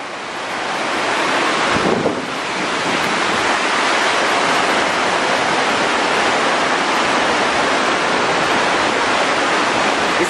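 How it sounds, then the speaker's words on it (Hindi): The Shyama river in the Himalayas near Harsil rushes in a loud, continuous roar of flowing water with steady wind-like hiss, close by and unbroken for the whole stretch, with no voices. "ये नदी है, इसको श्यामा नदी कहते हैं।"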